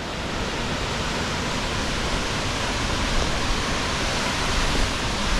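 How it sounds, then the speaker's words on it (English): Steady, dense roar of rushing water, loud and unbroken throughout, like a waterfall heard close; the falls above Glen Aulin in Yosemite's high country. "We got a beautiful, beautiful waterfall here"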